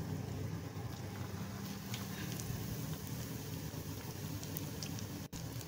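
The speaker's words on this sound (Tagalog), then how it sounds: "Pag mainit ang mantika, simulan natin magprito ang ating kroketas." Tilapia and potato croquettes frying in hot oil, a dense, even sizzle with scattered small pops and crackles, steady and close, no talking.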